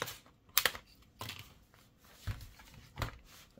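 A few sharp plastic clicks and snaps, spaced apart and fairly quiet, as clips pop loose from an HP 14 laptop's plastic casing.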